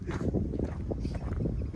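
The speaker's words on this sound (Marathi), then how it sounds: "वारा जाम आहे ना रे" Strong wind gusts across a deep mountain valley at Sandhan Valley, buffeting the microphone with a heavy, close, low rumble that lasts the whole short moment.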